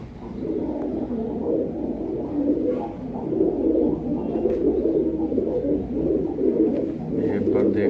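A female Surkha-breed low-flying pigeon coos repeatedly in soft, throaty rolling phrases, close and fairly loud, with faint background noise.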